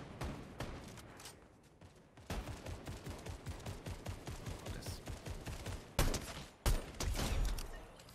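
Rapid automatic gunfire in the Fortnite video game, long sustained bursts of fast repeated shots with a couple of louder blasts near the end, loud and close.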